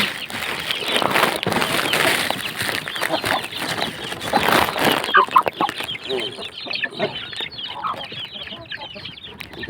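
Busy clucking and peeping from a group of young Aseel chicks, continuous and fairly close, with faint background noise.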